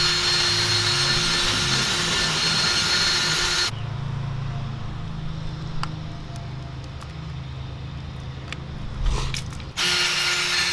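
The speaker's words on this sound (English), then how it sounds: "I'm just gonna drill the hole through the top of that" A power drill bores a hole through a fuel pump fitting during an IS300 engine swap. Loud steady whine and grind, a quieter rattling stretch in the middle, then the full drilling roar returns at the end.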